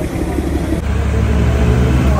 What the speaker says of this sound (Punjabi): ਆਹ ਸਾਡਾ ਵਾਲਾ ਇੰਜਨ ਆ ਸੀਟੀਆਂ ਮਾਰਦਾ ਹੀ ਜਾਂਦਾ ਇਸ ਟਾਈਮ.